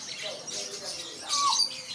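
Caged birds at a bird market chirp and tweet in short, bright bursts that overlap one another, fairly close and moderately loud.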